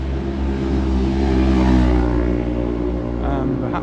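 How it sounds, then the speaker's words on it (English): A noisy motorbike rolls along a 30 km/h road in Magaluf, Mallorca, its loud, steady engine drone and low harmonic rumble holding throughout, swelling slightly at mid-pass. "Whoa, and a noisy bike"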